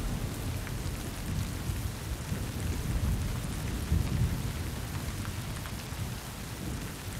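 Steady heavy rain pours down in a thunderstorm, a dense, continuous hiss with low rumbling underneath, loud and close, with no voices.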